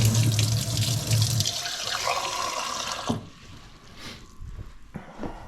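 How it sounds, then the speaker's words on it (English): Cold water gushes loudly from a kitchen tap into a container for dumpling dough, runs for about three seconds, then cuts off abruptly, leaving faint drips and quiet handling sounds. "I'm going to add about 100 grams or milliliters of water."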